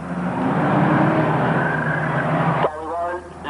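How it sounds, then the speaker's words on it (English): A pace car accelerates on a race track at a hot rod meeting, a loud continuous engine roar that swells then cuts off abruptly near the end, with commentary talk running over it. "Pace car speeding up then."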